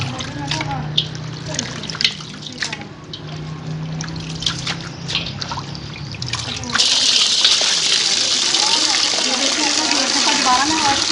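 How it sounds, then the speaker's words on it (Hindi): Raw mutton is rinsed under fresh running water in a basket, a steady close splashing stream that swells louder in the second half while someone talks over it. "फ्रेश पानी के साथ एक दफ़ा फिर वॉश करेंगे हम"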